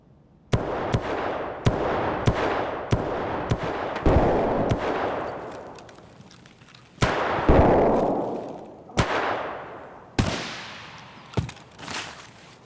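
Pistol shots in Escape From Tarkov crack out one by one, about a dozen sharp reports at irregular intervals, each followed by a decaying echo, loud and close with some spaced further apart.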